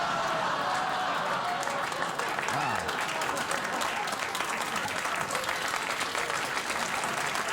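Studio audience applause on a late-night talk show fills the stretch, a steady dense clapping wash at even loudness throughout, with a brief voice surfacing partway.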